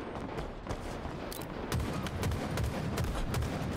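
Rapid gunfire from a weapon in Halo Infinite, a steady crackling burst of repeated shots that grows louder partway through, with no talking.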